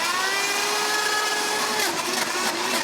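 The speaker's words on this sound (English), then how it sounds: "So, frozen strawberries, agave nectar, stevia, in a blender." A blender whirs steadily and loudly while frozen strawberries, agave nectar and stevia are mixed in a studio, the motor whine holding for a few seconds before its pitch shifts as the contents churn.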